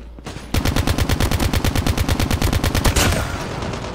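An ICR-1 assault rifle fires in Call of Duty Mobile: a loud, rapid automatic burst of about two dozen evenly spaced shots lasting roughly two and a half seconds. The burst stops abruptly and a short ringing tail follows.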